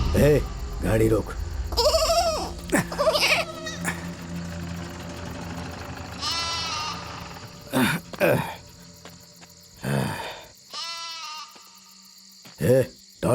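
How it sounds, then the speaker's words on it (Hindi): A stray goat bleats several times on a village road at night, loud and close, its wavering cries alternating with people talking nearby. "ये बकरी यहाँ कहाँ से आ गई रे?"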